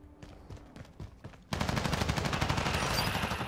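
Rapid automatic gunfire in the shooter game Modern Warfare, with scattered shots at first and then a sudden loud sustained burst of fire.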